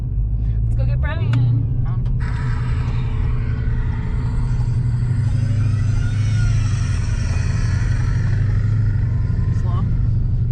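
A Dodge Hellcat's exhaust rumbles deep and steady from inside or beside the car, a continuous low growl with brief revving flutters early on, while people talk over it.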